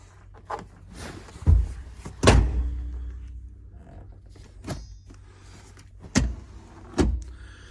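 Seats being raised back up in a 2015 Dodge Grand Caravan SXT minivan: a handful of distinct mechanical thunks and clunks spaced across several seconds, with faint creaks and rustling between them, close by and with no talking.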